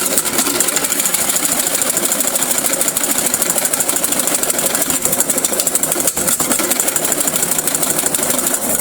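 Egg yolks for hollandaise sauce are mixed in a steady, continuous whir with a fine rapid texture. The sound is loud and close throughout, with no voices.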